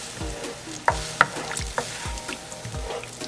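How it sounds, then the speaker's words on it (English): Beef teriyaki sauce with ginger being stirred as it thickens in a hot pan, giving a steady low sizzle broken by several sharp utensil scrapes and clacks against the pan, close and alone without talk. "Now I'm going to add my sauce into here. Mix this all together and let it thicken up a little bit."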